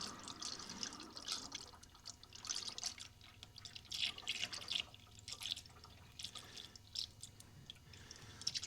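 Prestone premix coolant pours into the cooling system of an older BMW 2002, a soft liquid trickle with gurgles and drips, fairly faint and steady throughout, with no voices.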